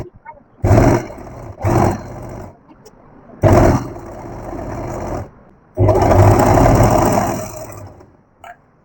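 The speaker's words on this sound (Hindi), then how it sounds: "अब इसको डबल करके सेम सिलाई हमें लगानी है।" A sewing machine stitching a doubled fabric strip for a baby girl's ruffle crop top set, running in four close bursts of whirring, the last one longest, with brief pauses between.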